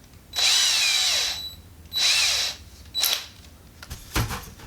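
Power drill boring a pilot hole, two sustained whirring bursts followed by a short burst and a few brief blips, heard up close with no talk.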